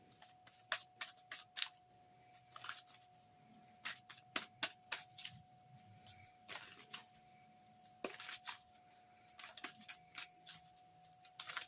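Forest of Enchantment tarot cards are shuffled and drawn by hand, with quiet crisp snaps and riffles coming in irregular bursts close by, and no talking.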